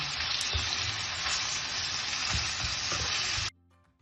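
Mushrooms with grated carrot, onion and garlic fry in oil while being stirred, giving a dense, loud, continuous sizzle with a few scraping stirs, cut off abruptly near the end.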